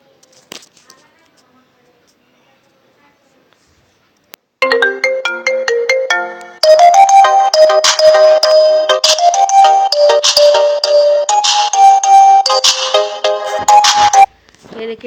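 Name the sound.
ringtone played from a ringtone website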